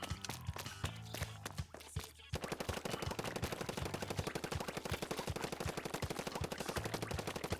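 Rapid shots ring out in a paint-shooting video game: scattered bursts at first, then a dense, fast, regular stream of close, sharp reports that continues to the end.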